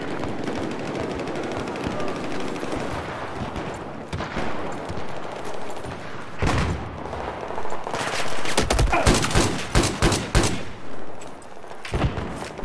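Rapid bursts of automatic RPK light machine gun fire in Battlefield 4, loud and close, with dense overlapping shots and heavy booming reports building toward the end.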